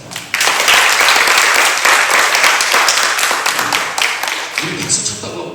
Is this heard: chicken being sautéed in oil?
no